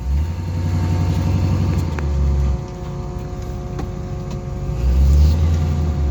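A 1972 GMC Sierra pickup's engine revs up loud and close, a deep rumbling roar that rises, settles back to a throbbing idle, then climbs again near the end.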